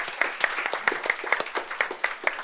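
A seminar audience at a generative AI event claps for a speaker coming on stage, a brisk, fairly close round of applause with distinct individual claps throughout.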